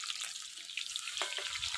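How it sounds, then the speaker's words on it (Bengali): Eggs frying in hot oil for a Bengali egg and eggplant dish, giving a steady crackling sizzle with a few sharper pops near the end. "এই দেখো ডিম কি সুন্দর লাল লাল করে ভাজা হয়ে গেছে"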